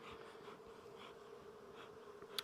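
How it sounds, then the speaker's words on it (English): Honey bees buzz steadily on a hive frame, a continuous low drone with a few brief louder swells and a sharp tap at the end. "there are still some bees on here"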